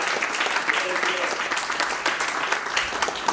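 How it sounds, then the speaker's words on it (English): A women's conference audience bursts into a big round of applause, close and continuous throughout, with some voices mixed into the clapping. "let's give a big round of applause to Abigail Wong"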